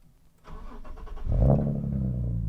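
A Nissan 370Z NISMO fitted with a Fast Intentions exhaust cranks with a rapid starter whir, then fires into a loud, deep idle that swells briefly and settles into a steady throaty rumble, close by with no talking.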